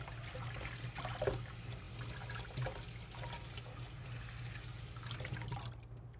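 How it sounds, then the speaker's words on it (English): Cold tap water runs steadily over roasted red peppers being rinsed, a soft, continuous splash and trickle at low volume with no talking. "Now I'm going to rinse them off in some running cold water."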